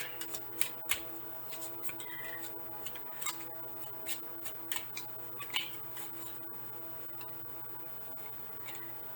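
Tarot cards are shuffled and drawn in a quiet room, soft papery riffles and light snapping clicks coming in irregular bursts, faint and close.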